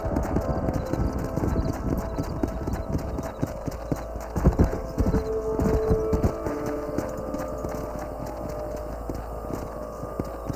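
Rapid clip-clopping of horses' hooves in the western video game Red Dead Redemption, steady and close, with a faint neigh and a low background hum mixed in.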